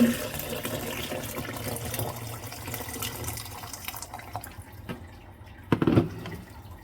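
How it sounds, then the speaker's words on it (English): Boiled water poured into a container during home meal prep, a steady broadband liquid wash for several seconds that thins out, followed by a brief splashy burst near the end. "So the boiled water goes in, just boil it up."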